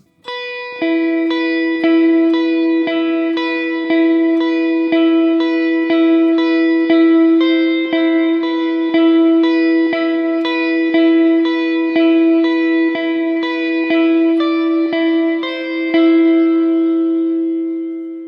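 A guitar on a clean tone plays the quiet, subdued verse of a song: steady picked notes ring and overlap in a repeating pattern, alone and at an even, moderate level for the whole stretch.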